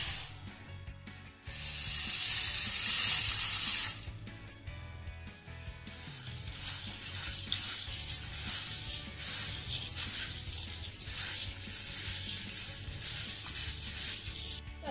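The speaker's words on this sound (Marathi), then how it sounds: "तर सर्वात आधी आपल्याला ही ज्वारी 2 ते 3 पाण्याने स्वच्छ अशी धुवून घ्यायची आहे" Sorghum grains being rinsed in water in a bowl, with steady sloshing and trickling of water, louder in one early burst and then continuing at a moderate level without speech.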